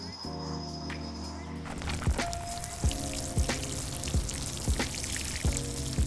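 Water pours onto a newly planted conifer in clay soil, a steady splashing wash with a few soft thumps, over a constant background hum.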